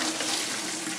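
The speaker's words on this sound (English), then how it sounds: "I'm going to strain them out in the" Cooked peas and sweet corn are tipped into a colander, giving a short, soft rush of pouring and splashing water.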